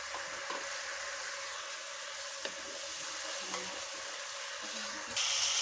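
Chilli chicken fries in a pan, a faint, steady low sizzle with a few soft stirring knocks, ending on a brighter hiss.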